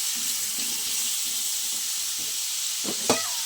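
Radish frying in a pan gives a steady, close sizzle with faint stirring scrapes, with a couple of sharper clinks near the end.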